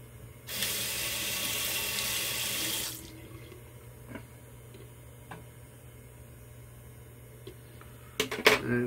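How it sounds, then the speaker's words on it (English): Hot water gushes from a tap for a rinse, a loud rushing burst lasting a few seconds, then stops, leaving faint clicks and small knocks, with a couple of sharp clatters at the end. "let's get a hot water rinse in"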